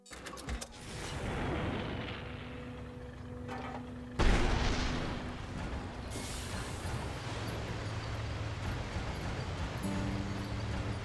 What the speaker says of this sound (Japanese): これは大砲だね